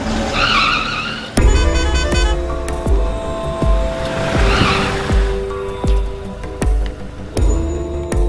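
A car in a Tamil action film brakes to a stop with its tires skidding and squealing, loud and close, with recurring thumps and a rumbling engine, and no talk.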